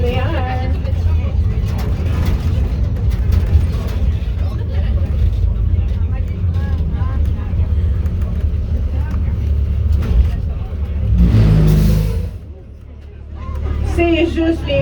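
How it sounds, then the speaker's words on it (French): An amphibious tour bus rumbles steadily, its brakes still wet from the river, with a harsh noisy burst near the end over the engine drone and background chatter. "It's only the brakes that are still wet from the river. Don't worry about the noise."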